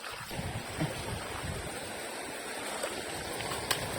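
Big ocean waves at low tide along a sandy shore wash and roar steadily, a continuous broadband surf with wind noise on the microphone and no talking.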